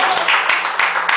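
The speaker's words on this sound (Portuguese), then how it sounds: "Vamos receber o pastor com as palmas do Senhor" A church congregation claps briefly to welcome the pastor, with a few rhythmic, evenly spaced claps over a bright, steady wash of sound and a low hum.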